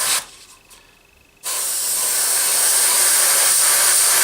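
An airbrush sprays primer onto scale models, a loud close hiss that stops briefly and then resumes as a steady, continuous jet of air, with no talking.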